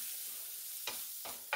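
A broccoli filling for stuffed paratha frying in a pan and being stirred, a faint continuous hiss broken by three short scraping strokes.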